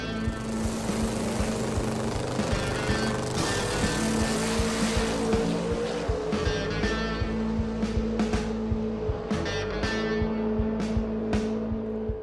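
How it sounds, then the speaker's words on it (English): A fast Pro Mod race car runs a match race against an LA County Sheriff's car, its engine roaring loud and continuous with a rough, pulsing rattle and sharp bursts near the end. "a special match race against the LA County Sheriff's Motorsports Outreach Division"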